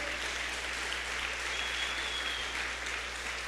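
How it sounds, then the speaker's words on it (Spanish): Continuous loud applause from a full church congregation, a dense even roar of many hands clapping throughout, with no talk. "Dale una ofrenda de palmas fuerte al Rey de Reyes."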